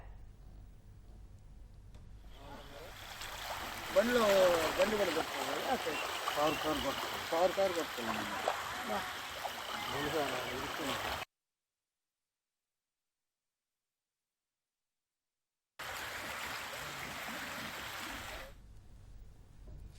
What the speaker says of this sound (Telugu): గత రాత్రి కురిసిన భారీ వర్షానికి కొండవాగు ఉధృతంగా ప్రవహిస్తోంది